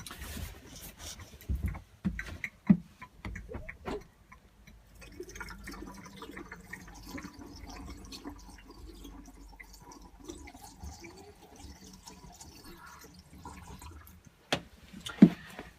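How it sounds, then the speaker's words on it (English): Antifreeze pours and trickles into a floor drain trap in scattered splashes and drips, quiet and close, with a few sharper knocks at the start and end. "Just wanted to make sure that we got plenty of good antifreeze into the traps"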